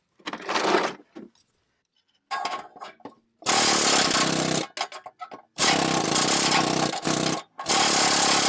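A longer metal piece strikes the exhaust clamp under a Dodge Grand Caravan van in several bursts of harsh, loud clattering, with short silent pauses between them.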